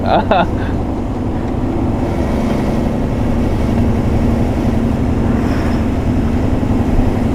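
Volvo F16 intercooler truck being driven, its diesel engine producing a loud, steady low rumble inside the cab throughout.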